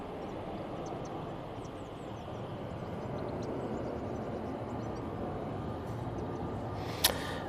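An airliner, likely an A321neo, takes off from Manchester Airport bound for Kefalonia, a steady broadband jet roar heard from a distance with a brief sharp click near the end.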